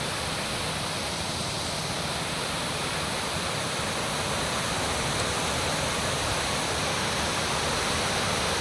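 Heavy rain and rushing water in a village setting, a dense, continuous roar of pouring and flowing water, steady and loud throughout with no voices.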